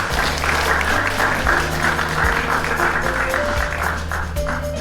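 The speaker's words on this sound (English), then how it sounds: "Everyone applause." Enthusiastic applause from a group, sustained clapping rising and holding throughout, with faint background music.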